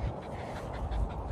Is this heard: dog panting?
yes